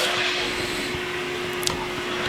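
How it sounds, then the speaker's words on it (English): A hoover hums steadily in a room, a continuous mid-level whine with a constant tonal drone, steady in loudness throughout, with a faint higher squeak near the end. "If you hear a hoover again, I'm sorry"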